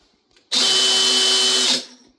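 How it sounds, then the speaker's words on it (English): A handheld power drill with a drill bit spins up abruptly and runs at a loud, steady high-pitched whine for over a second before winding down, close to the listener with no talk. "When you're hand drilling, you have to take notice of your work, take notice of the drill bit"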